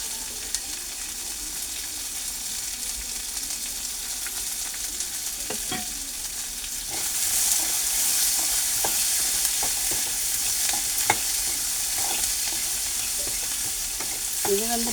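Tomato and spices sizzle steadily as they sauté in a pan for a chickpea curry, with occasional stirring scrapes and clicks against the pan, growing a little louder partway through, with no talking.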